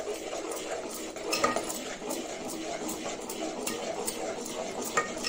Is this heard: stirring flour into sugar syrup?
yes